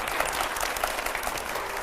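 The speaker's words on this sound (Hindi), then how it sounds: "पहले जोरदार तालियां" Loud, sustained applause from a studio audience, dense clapping filling the whole moment without a break.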